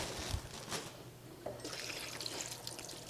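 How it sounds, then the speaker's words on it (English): Cold water trickles and pours over potatoes in a container, a soft, steady liquid stream running quietly on its own. "And then in with the cold water."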